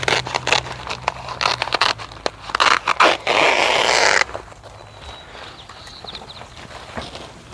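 Weed barrier ground cover fabric being cut, with bursts of crisp scraping and crinkling close by in the first half, then quieter handling rustles.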